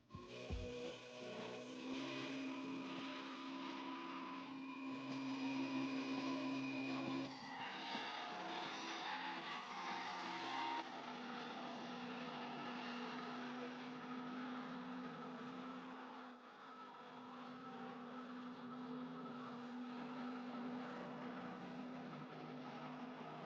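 A washing machine motor whirs with a steady, humming drone that holds for a long stretch, shifting slightly in pitch as its rotation speed is adjusted, with no talking.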